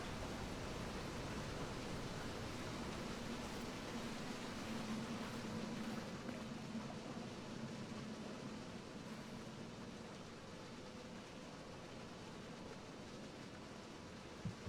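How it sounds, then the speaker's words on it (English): Steady broadband rush of a waterfall in the video game The Witness, a continuous hiss of falling water holding level throughout with no talk over it. "waterfall here."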